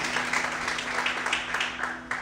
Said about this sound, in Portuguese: Então aplaude e exalte ao Senhor bem forte.